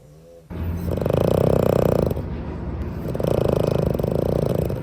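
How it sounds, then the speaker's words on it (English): Loud, close snoring with two long rattling breaths, each a rough droning rasp with a pause between them. "if you hear snoring in the background"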